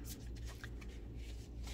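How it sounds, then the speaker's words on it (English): Tarot cards being shuffled by hand, a soft continuous riffling and sliding of card stock with small flicks and taps, close and fairly quiet with no talking. "so I'm shuffling."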